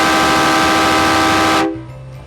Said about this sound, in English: But don't forget about the train horn back there.